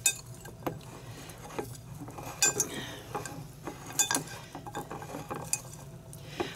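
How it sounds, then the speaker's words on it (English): A utensil stirs canned applewood smoked chicken salad with mayonnaise in a bowl, making quiet, irregular clinks and scrapes against the dish in short bursts, close and faint, with no voices. "So let me stir this up."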